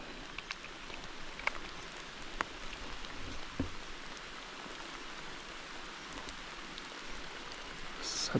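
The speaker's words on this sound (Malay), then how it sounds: "Hujan lebat geng. Tiba-tiba hujan." A constant, even hiss of falling rain with a few scattered drips and taps, no voices present.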